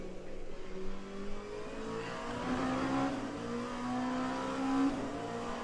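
LMP1 prototype race car engines in the Le Mans Ultimate sim racing game, a steady droning engine note that rises in pitch through gear shifts, moderately loud with no talking.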